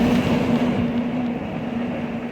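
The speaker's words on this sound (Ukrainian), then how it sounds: "Трамвай, який гребе під горба." Steady rumbling of a San Francisco tram grinding up a steep hill along its rails, with a continuous low electric hum throughout.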